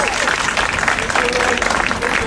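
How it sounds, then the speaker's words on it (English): Audience applause at a Pawtucket community meeting, a dense steady patter of many hands clapping that stays loud for the whole stretch, with some chatter mixed in. "Give her a round of applause, please."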